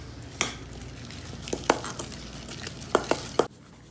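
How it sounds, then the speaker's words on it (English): Almond filling for a galette des rois is stirred by hand in a bowl, with scattered scrapes and sharp knocks of a utensil against the bowl, some in quick pairs, close and without talk. "And now we can just stir by hand."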